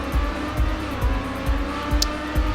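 A race car in the Trackmania video game drives on with a steady engine drone and rhythmic low thumps, plus a brief high squeal near the end, continuous and close.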